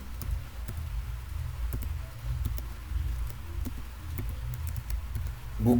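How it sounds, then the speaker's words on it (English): Computer keyboard being typed on, with soft irregular key taps over a steady low background hum, fairly close and without talk. "You can come here and type in Google"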